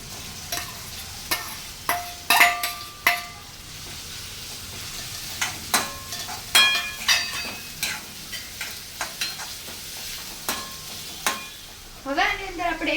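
Onions being stirred into masala paste in a hot pan: a low sizzle under repeated scraping, clacking spoon strokes at an uneven rhythm, close and fairly loud.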